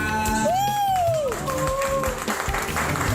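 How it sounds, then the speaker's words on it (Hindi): Brief applause in a transgender beauty salon in Ghaziabad, clapping mixed with a warbling tonal sound and lively crowd noise, fairly loud and busy throughout. "तालियां।"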